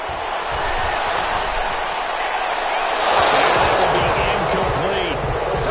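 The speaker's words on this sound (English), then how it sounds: "Some applause for the defense there." Crowd applause and cheering in a football video game, a broad steady roar from a stadium crowd of Saints fans that swells partway through.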